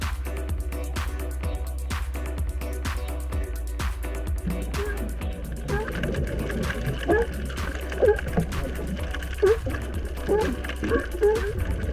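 Sea lions from a colony on a healthy reef in the Sea of Cortez bark and growl underwater. Their calls come in scattered bursts over steady clicking and a low rumble, while a voice talks over them.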